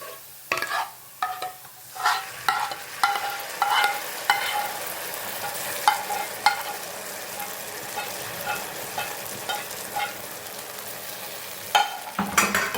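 Gravy is added to a pan and stirred for white sauce pasta, with sizzling and repeated scraping and clacking of a spoon against the pan in irregular bursts, close and with no talk.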